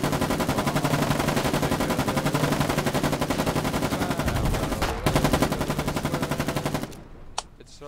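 12.7 mm machine guns in the Foxhole war video game fire in a loud, continuous rapid stream of shots for about seven seconds before cutting off to a few stray reports.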